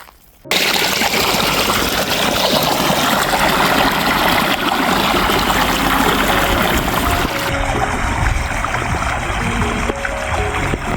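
Irrigation water rushes into the channels of a white onion field after a brief quiet start, a loud, steady, continuous flowing and gushing that holds for the rest of the clip.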